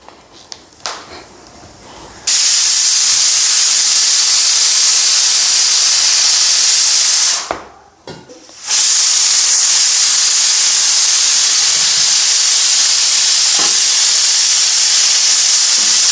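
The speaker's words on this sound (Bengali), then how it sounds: "এদিকে আলুটাও সিদ্ধ হয়ে গেছে সিটি পড়ে গেছে" Pressure cooker boiling potatoes in a home kitchen vents a loud, steady steam hiss that runs almost the whole time, cutting out briefly twice before resuming at full force.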